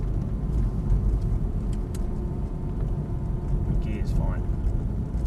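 An Aston Martin DB9 drives around a course, its engine a low steady rumble close by while a person talks over it.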